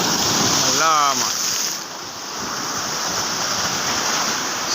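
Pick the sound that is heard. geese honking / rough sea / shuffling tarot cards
rough sea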